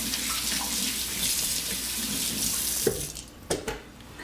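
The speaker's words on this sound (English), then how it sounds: "I'm gonna just rinse my hands." A kitchen water tap runs steadily while hands are rinsed under it, a close, continuous splashing hiss that ends with a few clunks and drips as it shuts off.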